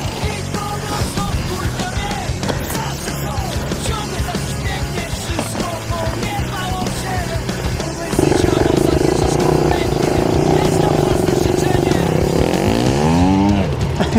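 An enduro motorcycle engine revs hard and continuously at close range, rising to a louder, steadier roar partway through and ending with a sweeping climb in pitch, with shouting voices mixed in under the engine noise.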